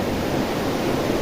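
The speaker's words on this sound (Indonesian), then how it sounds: "air terjun Kali Pancur ini termasuk salah satu yang tertinggi di Jawa Tengah" Kali Pancur waterfall in Getasan, Central Java, over 100 metres tall, producing a steady dense roar of falling water that stays continuous and even, with no voices.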